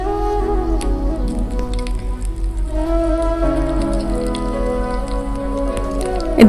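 Curry leaves and mustard seeds sizzle in hot coconut oil, giving a steady, close crackle with small pops and spatters throughout.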